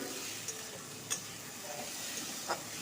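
Tomato frying with pointed gourd and lentils in a pan gives a faint, steady sizzling hiss, broken by a few brief clicks of stirring.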